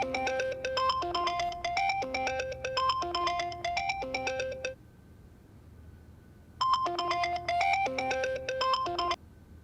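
A telephone ringtone melody plays as a call goes out, repeating its tune loudly and clearly, stopping for a couple of seconds, then starting again, with no talking.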